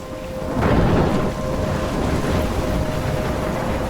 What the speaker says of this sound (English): That's the storm that you also see again later on.